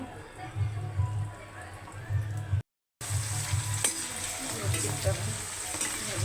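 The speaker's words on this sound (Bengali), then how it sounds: "এখন আলুর চিপ ভাজবো সবাই মিলে খাবো বিকেলের টাইমে" Homemade potato chips frying in oil, a steady bubbling sizzle running under a low rhythmic hum, with a brief silent gap partway through.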